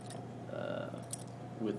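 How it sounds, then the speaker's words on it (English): The original keys of a new old stock Corbin Russwin lock jangle briefly and softly at close range, with a sharper metallic clink near the end. "The keys here"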